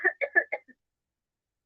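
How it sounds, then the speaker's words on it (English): A woman coughs in a quick burst of four or five short, dry coughs, close and clear, followed by a pause and a brief final sound, with no talk. "Oh, she coughed."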